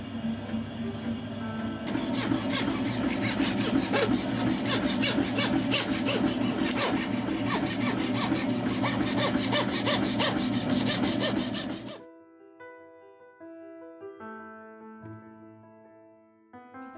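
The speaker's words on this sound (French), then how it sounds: "il y a un va-et-vient, une lame de scie qui découpe chaque pièce" A scroll saw blade rasps rapidly back and forth through wood puzzle pieces, loud and continuous, then stops abruptly, leaving a quieter humming machine tone.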